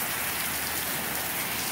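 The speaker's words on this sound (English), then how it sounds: "but it's raining, you see." Steady rain falls outside, a dense even hiss of drops striking surfaces, constant and fairly close, with no talking.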